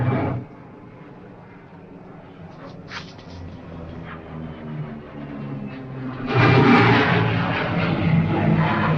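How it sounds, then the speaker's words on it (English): Propeller pickup plane from the 1942 era passing overhead, a low steady engine drone that swells suddenly louder and fuller as it comes near, with a faint voice at the start. "That's a pickup plane."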